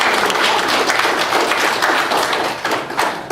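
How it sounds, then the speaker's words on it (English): A seated audience gives a round of applause for mothers at a gathering, a dense steady patter of many hands clapping at close range that holds for a few seconds before thinning slightly. "Give our mothers a round of applause."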